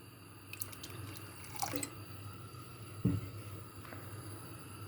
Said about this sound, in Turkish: Ben buna birazcık daha su ilave edeceğim.